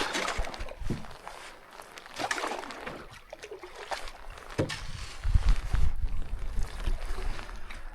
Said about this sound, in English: I really love paddling this canoe.